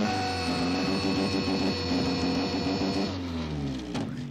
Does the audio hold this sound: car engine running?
yes